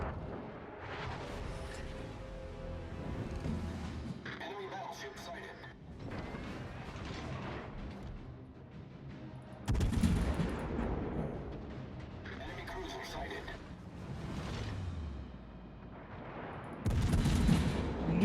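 Burst fire from the Conde warship in a naval video game: heavy clustered volleys of gunfire arrive in repeated salvos every few seconds over a steady background rumble of battle.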